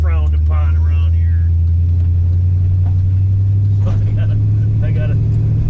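A 340 Duster, a roughly 55-year-old car, rumbles loudly and steadily with a strong low engine drone throughout, while someone talks over it.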